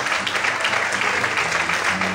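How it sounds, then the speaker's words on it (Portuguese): Dense, continuous applause from a large church congregation, loud and even, with a low musical hum underneath. "aplaude o Senhor e adore somente a Ele nessa noite. Aplaude o Senhor em forte"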